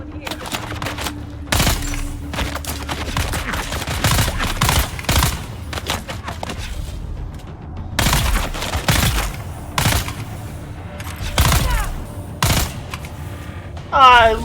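Bursts of gunfire from a weapon in the video game Dune Awakening, repeated volleys of rapid loud shots with short pauses between, over an ongoing game soundscape.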